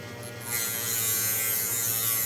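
A homemade shop grinder built from a microwave fan motor spins up and then runs as a steady, close, high buzzing whine.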